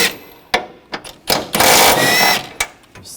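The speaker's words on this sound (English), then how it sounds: "Now down below, we're going to use a 16mm socket" Engine mount bolts on a 2014-2020 Nissan Rogue 2.5L being removed with a 16mm socket, sharp ratchet clicks and metallic knocks followed by a sustained buzzing whir of a power tool, close and loud, with no talking.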